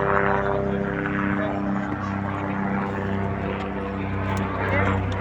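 A helicopter flies over the steep mountain footpath leading to the Kedarnath temple in Uttarakhand, India, giving a steady droning engine hum with low, even tones that holds throughout.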